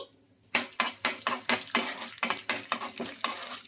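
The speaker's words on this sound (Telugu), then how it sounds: "ఇంకా వీటిని కొంచెం కలర్ వచ్చే వరకు ఫ్రై చేసుకోవాలి" Chana dal and urad dal frying in hot oil in a kadai, with a steady run of scraping, clinking spoon strokes and a soft sizzle, close and fairly loud, with no talking.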